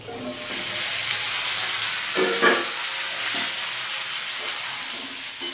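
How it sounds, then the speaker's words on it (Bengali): Cut potatoes drop into a pan of frying paneer, which sizzles loudly and steadily with steamy hiss and a few scraping stirs. No one speaks. "এইবার আমি এই কেটে রাখা আলুগুলোকে এই পনিরের মধ্যে দিয়ে দেব"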